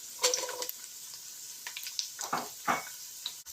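Raisins and almonds fry in a pan with a soft sizzle while a utensil stirs and scrapes them in a few short strokes, fairly close and quiet, with no talking.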